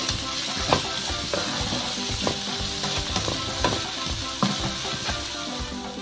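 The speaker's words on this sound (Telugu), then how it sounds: "టమాటాలు ఇలా కట్ చేసుకుని వేసుకుంటే దీన్ని ఇది బాగా వేగాక కొంచెం మెత్తబడాక" Chopped tomatoes fry in a pan with a steady close sizzle, broken by soft scraping stir strokes every second or so, no voices.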